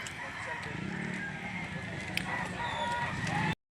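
Chickens cluck and a rooster crows after a bit of rain, a steady bed of clucking with short calls and a crow, moderately close, while someone talks over them.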